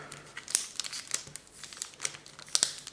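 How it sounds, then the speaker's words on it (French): Tape peeled carefully off a Pokémon booster pack: close, crisp crinkling and sharp tearing bursts of plastic wrapper and adhesive, with several loud snaps scattered across a quiet background. "on va commencer par retirer délicatement le scotch."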